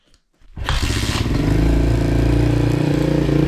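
A YCF 125 pit bike engine fires up after a brief quiet moment, then settles into a loud, steady, buzzing idle close to the listener, with no talk over it.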